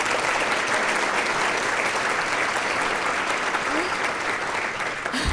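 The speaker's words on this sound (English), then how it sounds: "We can give her a nice round of applause." Applause at a community breakfast event, steady, dense clapping from a seated audience that carries through at an even level before tapering slightly at the end.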